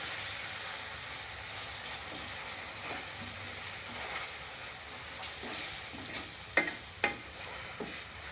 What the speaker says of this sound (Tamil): இது ஒரு நிமிஷம் வதக்குவோம் ஒவ்வொரு பொருளுக்கும் ஒரு நிமிஷம் ரெண்டு நிமிஷம் கொடுத்து வதக்கினா தான் குழம்பு நல்லாயிருக்கும் வெங்காய பேஸ்ட் வதங்கிடுது